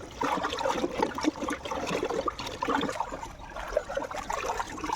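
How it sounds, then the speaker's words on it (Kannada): Continuous splashing and sloshing of water being stirred into jeevamrutha organic fertilizer for jasmine plants, steady and fairly close for several seconds. "ನೀರು ಹಾಕಿ ಆಗಿ ಮಿಶ್ರಣ ಮಾಡಬೇಕು ಹೀಗೆ"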